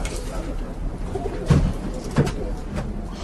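Racing pigeons coo in a loft, with a couple of soft, throaty coos standing out over low background murmur.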